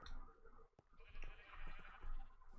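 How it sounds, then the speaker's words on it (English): Sheep bleat in a farming video game as a flock is herded into a pen, the calls coming in several short overlapping bursts at moderate loudness over a busy ambient game soundscape. "So, time to move the sheep into this this farm here."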